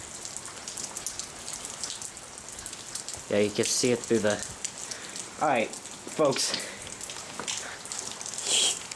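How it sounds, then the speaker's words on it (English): Rain falling outdoors, a steady soft hiss of drops on surfaces running throughout, with someone speaking over it in short bursts. "It just started raining again."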